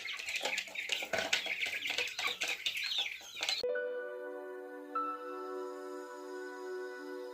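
Chickens cluck and chatter busily close by on a Himalayan hill farm for several seconds, then give way abruptly to a steady, tonal hum.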